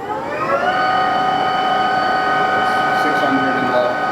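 TRAK TRL 1840SX 18-inch by 40-inch flat bed CNC/manual lathe with a two-speed headstock, spindle running at low-range RPM: a steady, loud mechanical whine with sustained tonal hum and no pauses.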